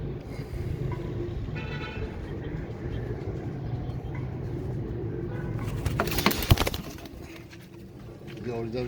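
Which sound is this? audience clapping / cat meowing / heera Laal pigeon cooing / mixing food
heera Laal pigeon cooing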